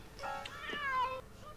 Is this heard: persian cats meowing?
yes